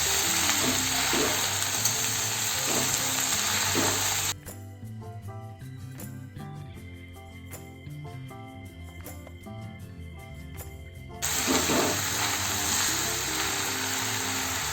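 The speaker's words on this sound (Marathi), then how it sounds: "आधी थोडीच भाजी टाका, थोडीशी ती परतून घ्या" Water spinach sautéing in a hot pan, a loud steady sizzle with stirring that drops to a quieter crackle midway, then swells back to a full hiss.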